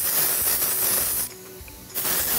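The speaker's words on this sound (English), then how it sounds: "So spraying that through from root through to tip." A volumizing hair spray misted through hair from root to tip, giving a close, steady hiss that pauses briefly before resuming.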